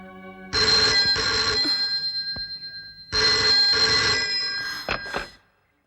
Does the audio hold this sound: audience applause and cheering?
no